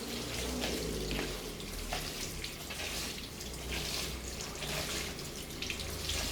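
Cooked noodles, strained from their broth, rinsed under a running tap to cool them, a steady close hiss of flowing water with faint clatter, no talking.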